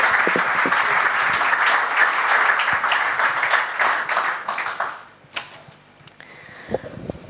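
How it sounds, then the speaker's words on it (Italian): A dense burst of audience applause at an Italian sports club season presentation, loud and steady for about five seconds, then fading out into a few scattered claps and small noises. "Un applauso."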